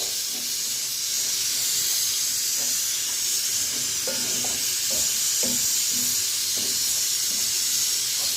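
Dry semolina being roasted, stirred and scraped in a hot pan, a steady soft sizzle and hiss with repeated scraping strokes of a spoon.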